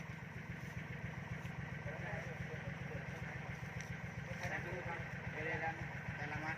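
A steady, chugging diesel tractor engine idles nearby with a regular low thumping beat, running continuously while people chatter faintly in the background.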